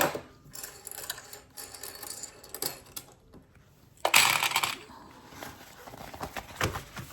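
A sewing machine stitches a zigzag seam on a cable bag in short mechanical bursts, rattling and clicking close by with quiet pauses between runs.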